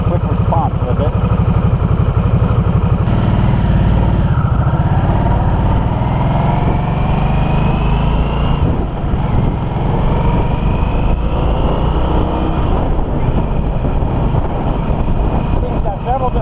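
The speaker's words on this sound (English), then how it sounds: "So when you turn the throttle," A 2022 Harley-Davidson Nightster engine runs loud and steady with throttle revs in sport mode, its low rumble filling the whole stretch while someone talks over it.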